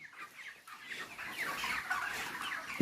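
Broiler chickens on a poultry farm cluck and murmur in a continuous, overlapping chorus, moderately close but fairly soft, with a busy shed ambience and no talk.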